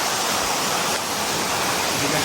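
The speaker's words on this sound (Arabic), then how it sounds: "الشلال اللي هنا" A waterfall at a camping spot in northern Iraq roars steadily and loudly, a dense broadband rush of falling water filling the scene without pause.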